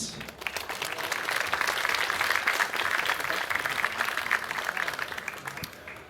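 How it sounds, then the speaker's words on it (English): Conference audience at a hardware hacking talk breaks into sustained applause, dense clapping from a large crowd filling the hall, steady and loud for several seconds before easing off. "Give Daniel a warm round of applause, and then we can get started."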